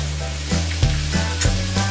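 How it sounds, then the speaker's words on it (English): A steak sizzles loudly in a hot pan, a dense close frying hiss broken by several clanks and scrapes of the pan or utensil at short irregular intervals, with no talking. "Now when the steak is just about where you want it to be cooked"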